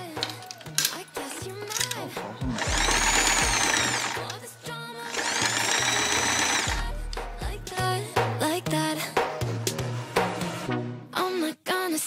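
A sewing machine stitches the hem of a gothic dress in two steady whirring runs of a couple of seconds each, separated and followed by clicks, rattles and handling noises.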